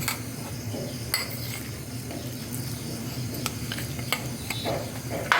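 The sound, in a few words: oil heating in a pan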